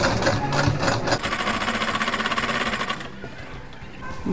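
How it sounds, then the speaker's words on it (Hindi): A sewing machine stitches ladies' palazzo pants, its rapid rhythmic needle chatter running loud and close for a few seconds before stopping. "इसको हम इधर साइड में रखते हुए यहाँ से हम सिलाई लगा लेंगे।"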